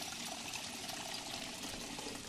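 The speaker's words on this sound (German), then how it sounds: "Befülle, Flasche." Water filling a bottle in the survival game Project Zomboid, a steady broadband pouring rush running evenly and fairly faint throughout with no talk.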